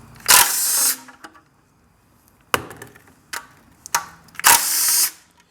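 A Snap-On impact gun zips rusty bolts off a Honda B20 engine in a garage, with three or four loud, separate bursts of rattling hammering between quiet pauses and a few small clinks.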